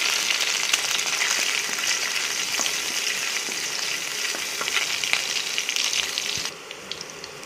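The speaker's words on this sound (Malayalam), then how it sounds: "കടുക് പൊട്ടിയതിന് ശേഷം കറിവേപ്പില, ഇഞ്ചി ചതച്ചത്, വെളുത്തുള്ളി, പച്ചമുളക് എന്നിവ ചേർത്ത് 1 മിനിറ്റ് നന്നായിട്ട് വഴറ്റുക" Curry leaves, crushed ginger, garlic and green chilli sauté in hot oil in a pan, giving a loud, steady, close sizzle that carries on before dropping suddenly quieter near the end.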